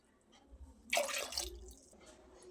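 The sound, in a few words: water being poured into khichdi pot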